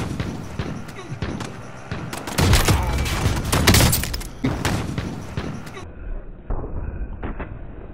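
Video game gunfire crackles in dense, loud bursts with sharp shots and impacts, peaking midway, while a player talks at moments.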